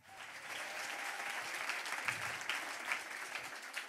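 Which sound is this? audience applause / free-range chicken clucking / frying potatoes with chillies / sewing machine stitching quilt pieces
audience applause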